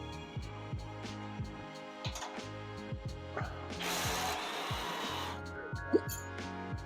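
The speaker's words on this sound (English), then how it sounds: "Good thing we got all these wrenches." A wrench ratchets bolts loose during a teardown, quick repeated clicking strokes in uneven bursts, close and crisp, with a brief hiss of noise in the middle and faint background sound.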